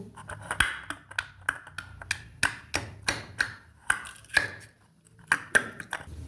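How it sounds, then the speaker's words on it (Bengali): Ginger is pounded and crushed in a heavy bowl, producing a series of sharp, fairly regular knocks about twice per second with brief ringing, close and alone with no talking. "দেখুন আদাটা থেতো করা হয়ে গেছে"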